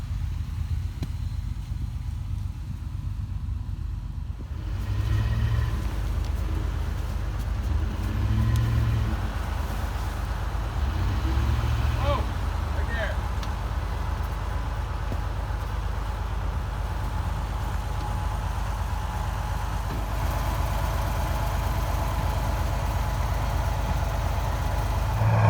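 A truck engine runs at a steady, low rumbling idle for a long stretch while a tractor is being pulled out outdoors, with a faint clunk partway through.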